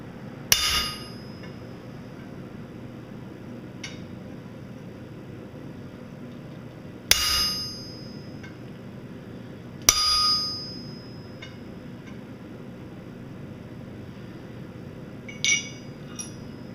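A hammer strikes a heavy, blunt cold chisel to forge a dragon's foot in steel. It gives three sharp, ringing metallic hits spaced several seconds apart, with fainter taps in between over a low background hum.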